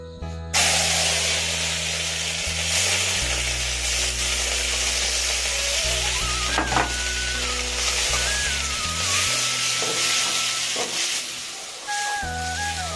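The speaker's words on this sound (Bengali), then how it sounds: "এখন আমি পেঁয়াজটা দিয়ে দিচ্ছি" Onions sizzle in a pan at a friends' picnic, a loud continuous frying hiss carrying on throughout, with low background hum and a few brief clinks of a spatula, and no voices.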